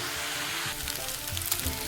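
A frying mixture seasoned with soy sauce sizzles steadily in a pan as it is stirred, with soft scraping and spatula movements joining partway through the close, continuous hiss.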